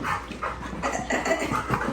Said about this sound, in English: Look at this armada of dogs.